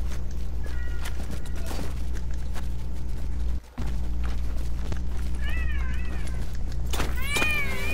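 A cat meows a few times near the end, rising and falling calls over a steady low rumble and scattered game noise in a Korean online shooter match.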